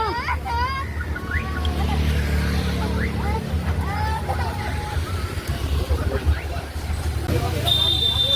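A car drives along a road on a family trip from Pondicherry to Chennai, its steady engine and road rumble running throughout beneath several people chatting inside.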